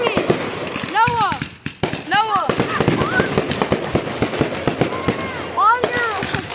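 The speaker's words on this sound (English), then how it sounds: "It is very loud and watch out for flashbangs" Flashbang grenades and other explosions in a video game burst as rapid, loud popping bangs in clusters, crackling like firecrackers, mixed with excited shouting voices over the whole stretch.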